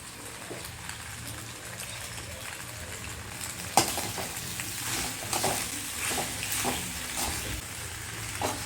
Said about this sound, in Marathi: मस्त असा त्याला फ्राय करून घ्यायचं मसाल्यांमध्ये, म्हणजे सॉसमध्ये